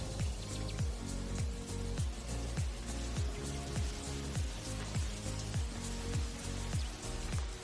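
Monsoon rain falls in a Thai tropical forest as a dense, steady patter with repeating drip-like pulses, a constant wash of water sound throughout with no voices.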